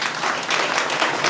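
Continuous applause from an audience at a gathering in honour of three brothers who got jobs, a steady dense patter of many hands throughout, loud and fairly close, with no voices over it.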